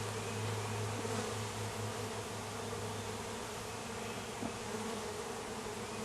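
Honeybees being installed into a top bar hive buzz in a dense, continuous swarm drone, close and steady throughout with no talking.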